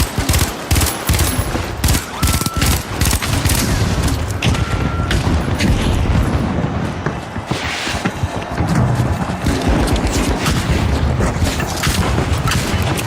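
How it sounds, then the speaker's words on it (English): Explosions and heavy gunfire fill a match of the video game The Finals: a loud, close, continuous barrage with booming blasts layered through the whole stretch. "Frag grenade. Throwing the frag."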